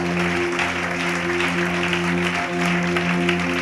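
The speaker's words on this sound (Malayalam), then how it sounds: "ദൈവസന്നിധിയിൽ കൈയടിച്ചെന്ന് സ്തുതിച്ചേ" A church congregation claps in praise during a Malayalam Christian service, sustained, dense hand-clapping over a steady tonal drone, likely from an organ or keyboard, loud and continuous from start to end.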